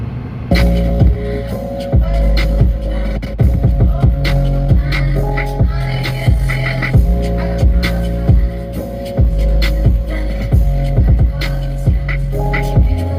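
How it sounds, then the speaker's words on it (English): A Samsung Galaxy Z Fold 3 phone speaker plays music loudly, with a booming bass line and throbbing beats. The audio is dense and continuous and fills the whole span without any talking. "listen to the beautiful blasting sounds out of this Fold"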